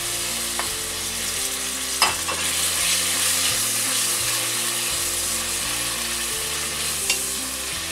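Finely chopped tomatoes for a Thalassery chicken dum biriyani sizzle steadily in a pan, a close, continuous frying hiss with a couple of sharp utensil clinks and no talking.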